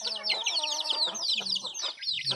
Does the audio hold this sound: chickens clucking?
yes